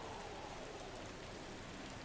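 Steady rain pattering on a surface, a continuous dense hiss of drops with no voices, even and moderately loud throughout.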